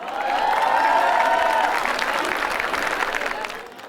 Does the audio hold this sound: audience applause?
yes